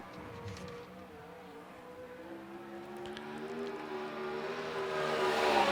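A USAC Southwest race car heads out for a qualifying lap at Central Arizona Speedway, its engine a steady rising drone with sustained harmonic tones, building louder toward the end with no talk over it.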